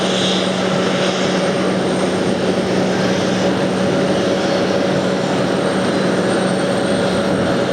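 A jet airliner landing at JFK airport on the inboard runway, its engines a loud, steady, broad roar close by for the whole stretch, with no talking over it.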